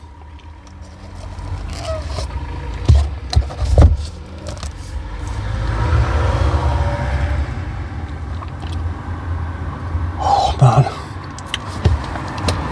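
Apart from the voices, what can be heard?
traffic going past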